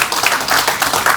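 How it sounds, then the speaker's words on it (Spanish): Church congregation applauding in praise during a Spanish-language sermon, a dense, steady wash of many hands clapping close by for just over a second, with no speech over it. "Dele un aplauso al Señor ahí"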